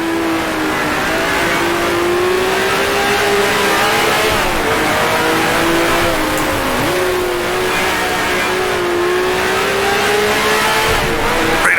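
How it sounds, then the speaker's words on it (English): A 1966 Formula One car in Grand Prix Legends, its loud, close engine dropping to second gear, pitch sliding down and climbing again in a steady, continuous snarl with no talking. "All right, down to 2nd gear here."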